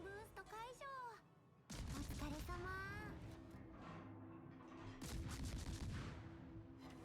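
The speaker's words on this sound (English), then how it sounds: "Island here, so we shall open fire." Naval guns open fire during a World of Warships naval battle, a burst of heavy booming shots landing over constant engine and sea rumble, with a voice talking at the start.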